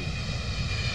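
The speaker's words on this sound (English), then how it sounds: "an aeroplane might take you there in just an afternoon" Continuous droning roar of an aeroplane engine, steady and fairly loud, with no voices.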